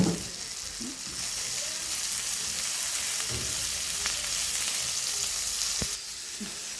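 Shallots sauté in hot oil with curry leaves and green chillies in a pan for a drumstick theeyal, a continuous crackling sizzle with occasional stirring knocks and a sharp tap near the end, close and steady.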